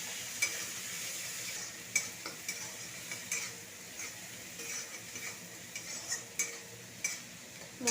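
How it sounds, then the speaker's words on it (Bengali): Powdered turmeric, coriander, cumin and salt fry in a pan while being stirred, making a quiet steady sizzle broken by repeated scraping strokes and light utensil clinks against the pan, close up and without speech. "সব কিছু দিয়ে ভালো করে মশলাটাকে কষিয়ে নেব।"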